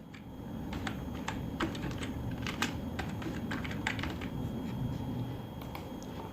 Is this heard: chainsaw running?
no